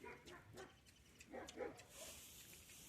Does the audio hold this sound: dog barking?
yes